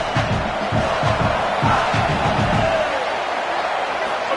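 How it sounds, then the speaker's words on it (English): Home crowd at a college football game cheering loudly, a dense roar with rhythmic bursts of shouting and chanting that fades slightly toward the end. "how nice is it to have the home crowd going absolutely bananas?"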